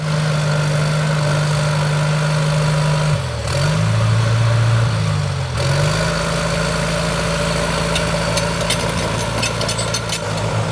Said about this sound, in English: watching this bulldozer just is impressive